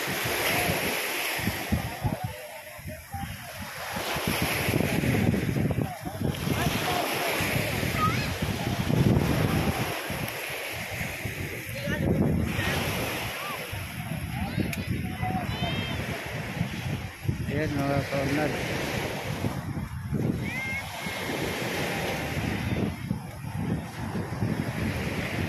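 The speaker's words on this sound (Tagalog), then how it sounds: "Hampas ng alon" Waves crash and wash continuously at Manila Bay amid heavy wind noise, with a voice talking intermittently over the roar of the surf.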